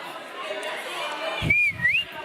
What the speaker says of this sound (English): I don't have that whistle, that whistle thing that people know how to do.